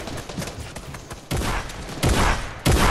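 Gunshots in Fortnite: several loud, sharp blasts, three heavy ones spaced about a second apart after lighter clatter, close and punchy.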